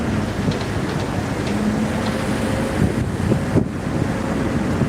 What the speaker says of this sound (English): So it's still a bit windy